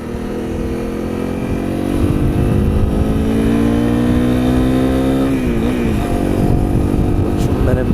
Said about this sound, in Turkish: Egzoz bir patırıyor böyle pat pat pat.